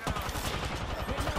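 Sustained rapid gunfire during an Apex Legends firefight, dense and continuous bursts throughout with a voice talking over it.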